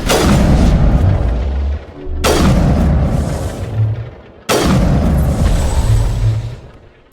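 Grenade blasts in the Mass Effect video game, three loud deep booms in succession, each with a sharp attack and a long rumbling decay.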